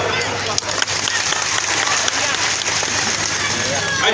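A crowd at an Assamese Paraja (Kui) community cultural gathering breaks into loud, dense applause that runs continuously for about four seconds, with voices mixed in underneath.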